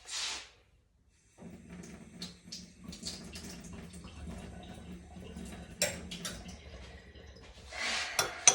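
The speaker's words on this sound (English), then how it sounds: "then you're going to add a couple of 2 to 3 tablespoons of water just to this mix" A few tablespoons of water go into a bowl of protein powder mix, giving a short splash at the start and then a run of soft sloshing, dripping and light clinks close by, with another brief splash near the end.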